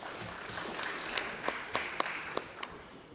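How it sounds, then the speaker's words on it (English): Scattered, sparse clapping from an audience at a meeting of African ministers, a handful of distinct, fairly faint claps spread out over a few seconds in a quiet hall. "Another round of applause for both presentations."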